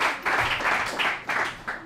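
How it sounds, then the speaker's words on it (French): A quiz show studio audience claps for the contestants in short, uneven bursts, moderately close, the applause rising and dipping several times. "Est-ce qu'on va applaudir pour nos candidats parce qu'ils sont exceptionnels?"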